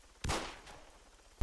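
A single sharp rifle shot at a far target in Arma 3, loud and close with a quick decaying tail, followed by another shot starting right at the end.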